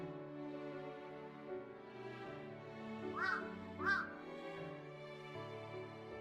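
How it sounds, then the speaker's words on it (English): Two harsh caws from crows near a garbage area, well spaced and moderately loud over a bed of soft music. "I could hear the sound of the crows cawing from the garbage area."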